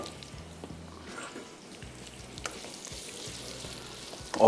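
Sliced onions fry in hot oil, a soft continuous sizzle with a few light taps and clinks of a utensil, fairly quiet and close.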